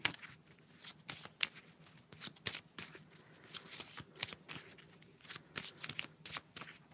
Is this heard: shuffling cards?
yes